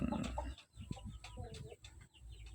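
Gamefowl chickens, a crossbreed of IG and Dumpo, cluck in a backyard, giving a few short, fairly close calls over steady low background noise.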